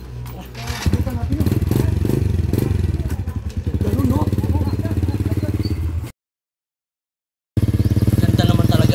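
A motorcycle engine runs close by with a throbbing idle and rattling clatter; the sound cuts out abruptly for over a second, then resumes just as loud.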